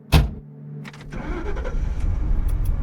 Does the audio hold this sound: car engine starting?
yes